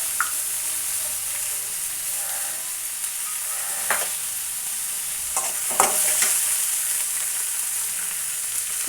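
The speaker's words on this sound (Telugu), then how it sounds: "ఇప్పుడు ఇందులోనే టమాటాలు మగ్గించుకోవాలి." Tomatoes with a little tamarind cook in a pan for a ridge gourd chutney, giving a steady close sizzle. Occasional scrapes and knocks of stirring come through, a few of them louder near the end.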